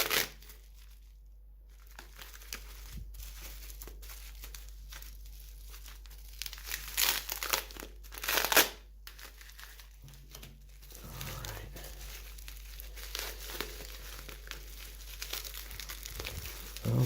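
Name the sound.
crinkling plastic bag being opened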